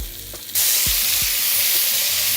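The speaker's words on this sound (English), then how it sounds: "I'm gonna be quiet so y'all can hear that sizzle." Green beans hit a hot pan and burst into a loud, steady sizzle that carries on without a break.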